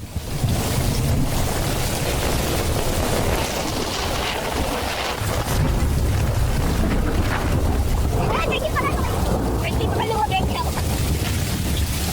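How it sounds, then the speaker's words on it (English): A waterspout churns nearby with heavy, continuous wind roar and rushing, swirling water, loud and buffeting the microphone throughout, with faint voices mixed in. "the waterspout moved closer, with water swirling everywhere and debris being violently lifted into the air"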